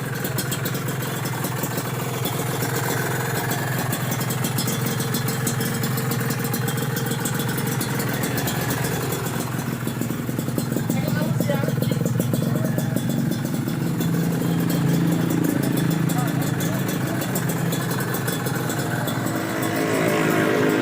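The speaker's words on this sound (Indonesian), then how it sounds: "Ini udah mantap ya, suara mesin alhamdulillah" A Kawasaki Ninja RR two-stroke motorcycle, upgraded with ZX parts and a new radiator, idles steadily at close range, a continuous mid-pitched engine drone with faint clatter and no speech over it.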